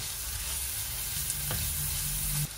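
Ginger, onion and garlic sizzle and fry in a hot pan, a steady close crackle with a brief clink of a utensil near the end.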